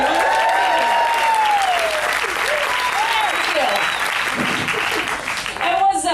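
A comedy club audience applauds loudly and steadily, with whoops and voices rising over the broad wash of clapping, which stays continuous until a brief lull near the end.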